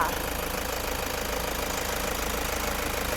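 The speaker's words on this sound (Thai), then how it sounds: "สตาร์ทเครื่องยนต์อยู่ค่ะ" A 2017 Toyota Commuter van's 3.0 diesel engine idles close by with a steady, clattering diesel knock and an even rumble, heard alone.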